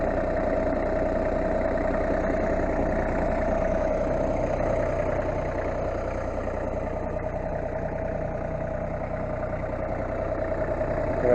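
A Massey Ferguson 1526 compact tractor engine runs close by at a steady throttle, a continuous mid-pitched diesel hum without breaks.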